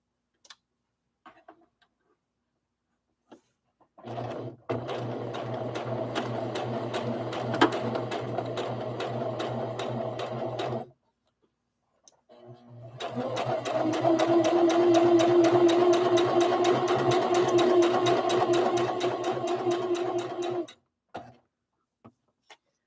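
A sewing machine stitches a rag doll leg in two steady runs, a fast even whirring hum with a ticking needle, the second run a bit louder, separated by a brief pause and bracketed by small clicks.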